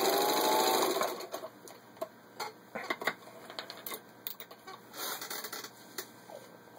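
A vintage 1951 Singer 15-91 sewing machine runs at slow and fast speeds, giving a loud close whir at first, then irregular bursts of rattling mechanical clatter with no talk.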